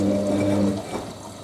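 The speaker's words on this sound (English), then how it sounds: "So we're on the third rinse, which is the super rinse enabled now." A Hotpoint WD64 Aquarius washer dryer on its third, super rinse gives a low steady motor hum with sloshing water, close and fairly loud, easing off partway through with no voices.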